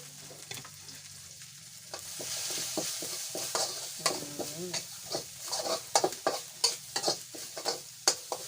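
Spicy meatballs and bamboo shoots being stir-fried in a pan: steady sizzling and frying with the repeated scrape and knock of stirring, growing busier and more rhythmic toward the end, close up and with no talk.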